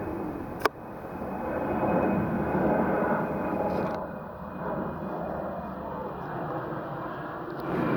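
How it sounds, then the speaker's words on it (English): An airplane taking off from Leeds Bradford Airport roars steadily in the distance, heard from Otley Chevin, a broad continuous engine rumble with a brief sharp click near the start. "that's a takeoff from Leeds Bradford Airport"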